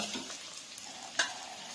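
Vegetables with onion, broccoli and carrot fry in a pan for fried rice, a soft steady sizzle with a faint stirring scrape, quiet and close with no talk.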